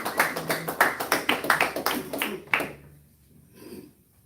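An audience at a temple service breaks into a short round of applause with rapid, dense clapping that stops abruptly after a couple of seconds, followed by a faint murmur.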